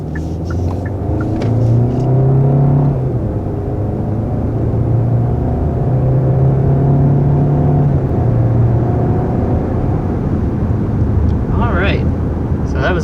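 A 2021 Hyundai Sonata SEL Plus pulls up a steep grade toward 60 mph, a loud, steady cabin drone of engine and road rumble with rising tonal whine through the run.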